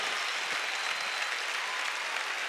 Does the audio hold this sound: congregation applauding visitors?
yes